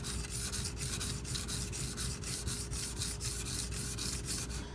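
A Karaku AS Gyuto 210mm kitchen knife is drawn across a sharpening stone in quick, regular back-and-forth passes, a close, even rasping stroke repeated steadily throughout.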